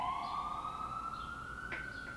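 A wailing ambulance siren rises slowly in pitch, steady and fairly distant, with no voices over it.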